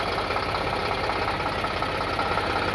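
An Eicher 548 tractor with a 50 HP engine idles close by, giving a steady, even rumble with a faint knocking vibration and no other sounds over it.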